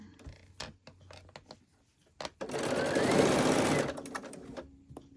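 A sewing machine stitches background squares onto a quilt block, running in one continuous buzzing burst of about a second and a half, with scattered clicks and handling taps before and after.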